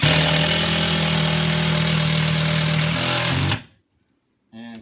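Power driver cranking lag screws into a wall while mounting wall steps, a loud, steady buzzing whir held close for several seconds that cuts off abruptly into brief silence before another short burst starts.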